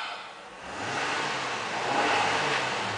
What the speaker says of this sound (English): Car is running right now. Let's go ahead and rev it.